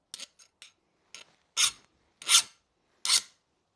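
A file rasps across a knife blade in a series of separate strokes, three short scrapes followed by four louder, longer ones, close and alone in silence.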